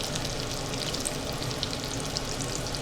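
Food frying in a pan of hot oil, a dense steady crackle and sizzle with fine spitting pops, close and continuous with no voices.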